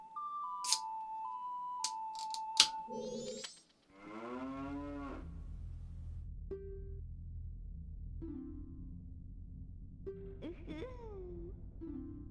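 In Zelda: Majora's Mask, a cow moos loudly in long, drawn-out tones after a series of short electronic game chimes, followed by quieter in-game tones and a steady low hum.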